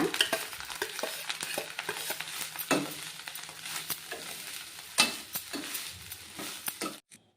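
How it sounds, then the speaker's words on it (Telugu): Raw prawns fry in a little oil in a pan, a steady close sizzle broken by repeated scraping stirs and a few sharper clinks, stopping abruptly near the end. "ఇందులోనే కొంచెం ఆయిల్లో ఆ రొయ్యలు కూడా ఫ్రై చేసుకోవాలన్నమాట"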